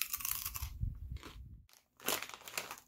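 Crunchy 7 Select flavored potato chips are chewed up close in loud crackling bursts, with a short quiet pause before the crunching resumes.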